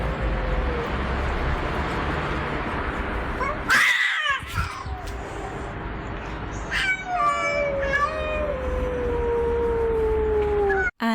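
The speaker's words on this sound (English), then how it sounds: "There's some howling to begin with, and then there's some hissing and snarling and howling again." Cats howl in long drawn tones, then break into sharp hissing and snarling before another rising, wavering howl, loud and close against steady background noise.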